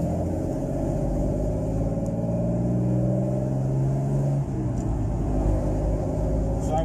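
A Chrysler CL Charger holds steady in top gear at about 1400 rpm on a dyno, giving a deep, even engine rumble that runs loud and unbroken, with a low drone and no speech over it.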